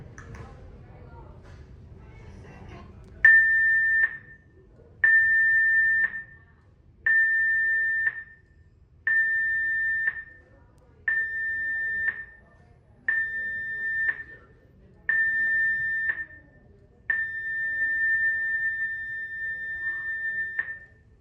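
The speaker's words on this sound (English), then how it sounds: "The general emergency alarm is about to be sounded for exercise purposes only." The general emergency alarm sounds during a muster drill aboard the Sky Princess cruise ship in port, eight loud steady tone blasts, seven short ones evenly spaced about two seconds apart and a final longer one, over faint background murmur.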